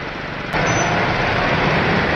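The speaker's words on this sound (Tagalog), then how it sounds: "Grabe ang traffic, parang hindi nagalaw." Heavy, slow-moving road traffic heard from a motorcycle on a hot day, a loud continuous rumble of engines and road noise that swells abruptly and then holds steady, with no talking.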